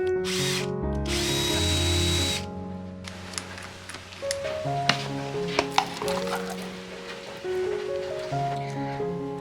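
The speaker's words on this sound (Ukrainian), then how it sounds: "Це мій любимий помічник шуропокрут." A cordless screwdriver drill used as a kitchen helper whirs loudly and steadily at the start, then cuts off, leaving clinks, taps and handling noises of kitchen work.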